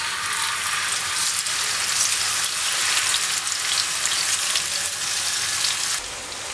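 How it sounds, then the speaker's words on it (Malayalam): Marinated chicken fries in hot oil, a loud, dense, steady crackling sizzle close by that drops slightly near the end, with no voices. "എണ്ണ ചൂടായിട്ടുണ്ട്, നമുക്ക് ചിക്കൻ ഇനി ഫ്രൈ ചെയ്തെടുക്കാം"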